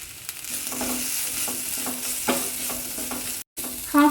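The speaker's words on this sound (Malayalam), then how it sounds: "അതുവരെ നമുക്കൊന്ന് ഇളക്കിക്കൊള്ളാം." Tomatoes and spice powders for a pepper chicken curry frying in a pan, stirred with a spoon: a continuous soft sizzle with repeated scraping strokes, close and alone, with a brief pause and a clink near the end.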